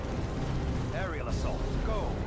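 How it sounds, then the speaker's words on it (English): Heavy assault cannon barrage from Dawn of War II: Chaos Rising, a steady wall of rumbling booming fire with bursts overlapping, while voices talk over the battle. "I wanna move away to do the assault cannon barrage"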